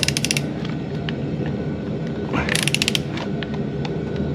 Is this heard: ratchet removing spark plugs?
yes